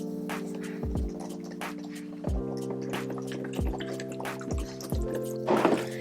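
Alcohol is poured into a container to soak plant leaves, giving a steady trickle with bright splashy drips and a few heavier glugs, close and alone without talk.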